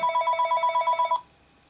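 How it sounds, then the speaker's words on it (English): A telephone rings with a rapid, warbling electronic trill of about ten quick pulses in one burst that stops abruptly. The ring is clear and close, with no voices. "And the phone is ringing."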